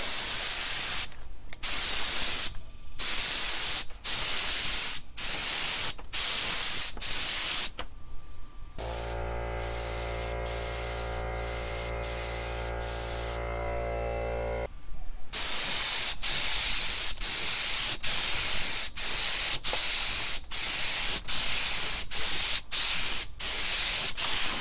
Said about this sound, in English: I have the pressure set at 37 psi in this Harbor Freight gun, running on an 8-gallon compressor.